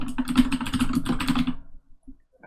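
Rapid keystrokes on a computer keyboard while writing Unity code, a close, brisk run of clicky taps for about a second and a half, then stopping into near silence with one or two stray clicks.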